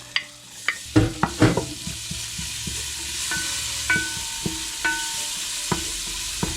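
Garlic fries in hot oil in a pan, giving a steady close sizzle broken by repeated scraping and tapping knocks from stirring, with no voices.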